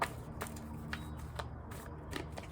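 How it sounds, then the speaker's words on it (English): Tarot cards being shuffled by hand, a soft papery riffling with brisk repeated flicks and slaps over a quiet room hum, close and fairly faint. "It's just a lot of shuffling."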